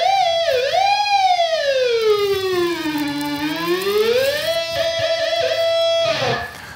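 A Schecter 7-string electric guitar holds one endlessly sustained note whose pitch swoops down and back up under a knob's control, a clear siren-like wail heard up close before it cuts off.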